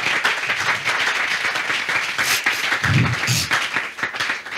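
Church congregation applauding in acclamation during a French-language sermon, steady loud clapping from a crowd throughout, with scattered cheers rising in the middle.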